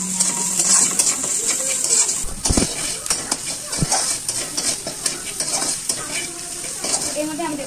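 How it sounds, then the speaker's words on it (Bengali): Onion, green chilli and salt sizzling in a pan while a spoon stirs and scrapes them, with close metallic clinks and knocks over a steady frying hiss. "এবার এটাকে আমি ভালো করে নাড়বো।"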